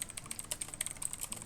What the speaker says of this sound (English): the typing